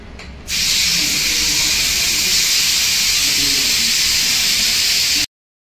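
A pressure cooker with pasta inside lets off a loud, steady, close steam hiss that starts abruptly and runs unbroken for about five seconds before cutting off.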